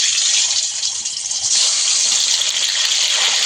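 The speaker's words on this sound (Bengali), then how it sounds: "ডিম তেলের মধ্যে দিয়ে দেব।" Spiced duck eggs dropped into hot oil in a pan give a loud, steady hiss and sizzle that runs without a break from start to finish.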